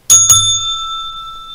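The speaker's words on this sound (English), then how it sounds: "So this bell's for both of y'all." A bell rung on a market broadcast gives two quick, bright strikes, then a clear metallic ring that lingers and slowly fades, loud and alone.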